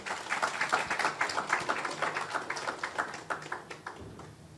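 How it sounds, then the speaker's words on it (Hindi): A church congregation applauds at a Christmas service of singing and Bible quiz, dense steady clapping from many hands that carries on for several seconds and thins near the end. "आपकी भरपूर तालियों में।"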